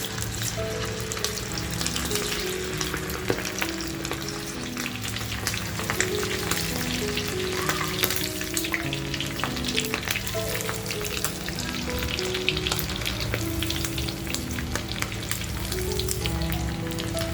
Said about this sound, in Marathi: छान तेल तापले बघा. आता पटापट टाकून घेऊया रिंग.